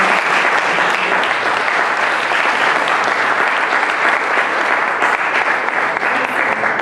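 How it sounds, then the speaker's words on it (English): Loud, sustained applause from an audience thanking a panel at the end of a discussion on risk, an unbroken, even roar of many hands clapping together. "give a good round of applause to"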